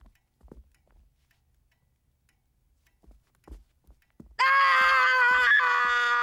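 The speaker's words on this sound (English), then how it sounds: "You tell me what you're screaming about this instant!" A child throws a tantrum, letting out a sudden loud, sustained scream that cuts in after quiet moments of soft footsteps and rustling in an indoor room.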